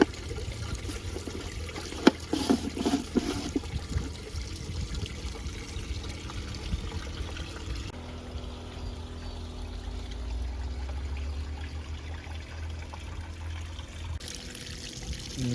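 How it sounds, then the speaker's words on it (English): Tap water runs continuously into an aquaponics system in far north Queensland, a soft steady trickle with a few louder splashing bursts early on and no speech. "there's still too much water, so we need to slow this tap down a little"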